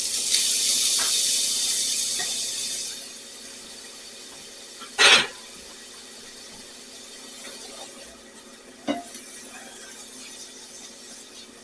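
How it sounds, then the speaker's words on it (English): Shrimp sizzle in a hot sauté pan with a bright, steady hiss that fades after a few seconds, followed by a sharp clatter and later a lighter knock as the pan settles into a quieter simmer. "Our pan is heating up, so let me go ahead and let me put our shrimp in."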